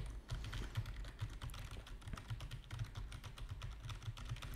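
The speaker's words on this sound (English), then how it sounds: "I have a HyperX gaming keyboard that is relatively loud, so actually the clicks are very nicely audible for me" Rapid clicking keystrokes come from a relatively loud HyperX gaming keyboard, a steady stream of close, crisp taps over a low background hum.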